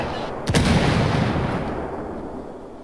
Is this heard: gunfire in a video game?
yes